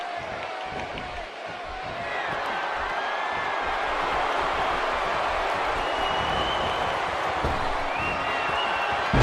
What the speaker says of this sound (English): I don't think I've heard a Toronto crowd this loud since we were in the Dome for WrestleMania 18